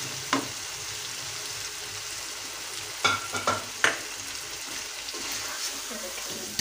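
Seekh kababs being stirred into hot fried masala, a continuous soft sizzle broken by a few scraping knocks of a spoon against the pan.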